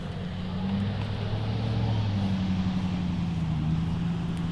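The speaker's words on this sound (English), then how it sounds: "you have the traffic going in and out" Steady road traffic drones in the background beside a golf course during a disc golf round, with low engine hum from passing cars rising and fading, no voices.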